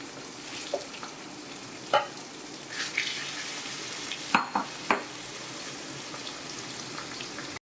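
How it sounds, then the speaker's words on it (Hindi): Chicken pieces sizzle softly in hot ghee in a pan, a steady, faint crackling hiss with a few sharper pops and stirring clicks scattered through it. "बस इसको थोड़ा थोड़ा घी में डाल के ऐसे रोस्ट करना है"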